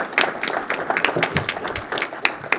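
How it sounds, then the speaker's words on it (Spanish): Audience applause welcomes a speaker at a book presentation, a dense patter of many hands clapping close by, steady and fairly loud for a few seconds. "Démosle un fuerte aplauso y bienvenida, por favor"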